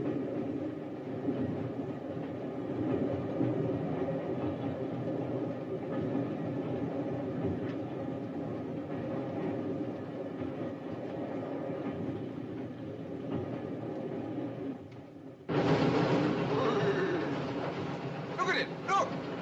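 Steam train in the 1959 film North West Frontier runs with a steady rumbling chug and rail clatter, a dense continuous mechanical roar that swells louder near the end while voices talk.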